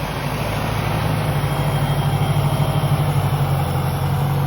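A Massey Ferguson 6S.155 tractor engine idles steadily nearby, a continuous low diesel rumble with an even mechanical throb and no voices.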